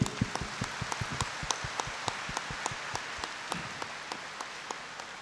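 Scattered, fairly faint hand claps ring out from an audience at a 2017 Buddhist memorial ceremony in Malaysia, loose and uneven, thinning out toward the end.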